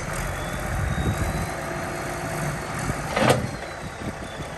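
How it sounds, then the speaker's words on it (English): A tractor working the soil while a new garden is created and leveled, its engine a steady, close rumble throughout, with a brief louder surge near the end. "It's amazing what can be done with a tractor."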